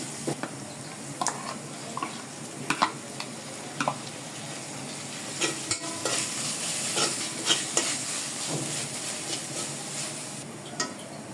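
Onions sizzle in a pan during village-style cooking of duck curry with coconut, a constant frying hiss broken by irregular scraping and clicking from stirring, close and without talk.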